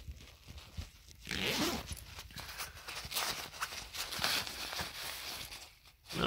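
A zipper is pulled open in several short, raspy strokes close by, with some rustling of fabric between pulls.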